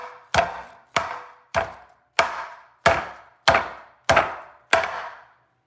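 A knife slices food against a cutting board in eight evenly spaced, crisp thunks, close and clear with brief quiet between strokes.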